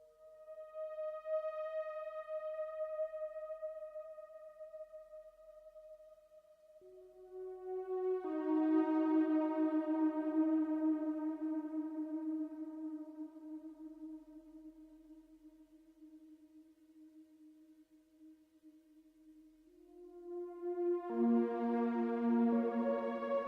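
Eurorack modular synthesizer playing an ambient patch drenched in heavy reverb: long sustained tones that swell and slowly fade, a few shifting held pitches with soft overlapping tails, calm and unhurried with no voices.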